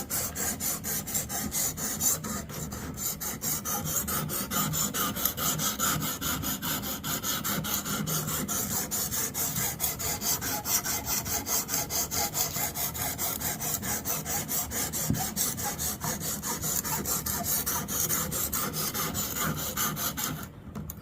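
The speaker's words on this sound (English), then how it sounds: "We're going to get to sharpening." A kitchen knife is sharpened on a Xarilk Gen3 guided sharpener with a continuous, close rasping of abrasive strokes along the blade, steady throughout with no talking.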